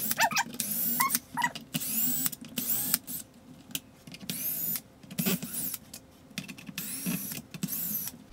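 A power tool whirs in short repeated bursts, pausing between each, as it removes screws from the chassis plate of a Traxxas X-Maxx RC truck, close and fairly quiet.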